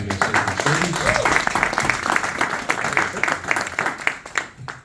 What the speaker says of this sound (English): how about a round of applause for all our candidates here from Sturgeon?